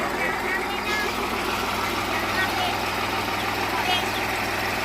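A tractor engine running steadily for hours to pump flood water out of a flooded Punjab village, a constant low droning rumble heard outdoors with people talking over it.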